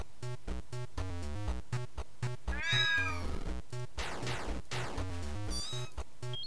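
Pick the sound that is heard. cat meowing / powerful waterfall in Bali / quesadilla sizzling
cat meowing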